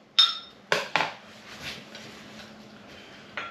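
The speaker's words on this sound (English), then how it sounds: "Stir it up one more time just so that glitter is nice and even spread throughout." A utensil stirring a glittery fishing bait mixture in a container, giving a few sharp clinking knocks against the side followed by soft scraping, close and fairly quiet.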